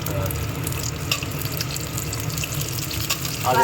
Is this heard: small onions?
yes